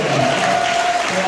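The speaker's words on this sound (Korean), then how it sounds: "박수!" Concert-goers at a parish music retreat clap together in a loud, continuous burst, with a sustained tone and some voices mixed in.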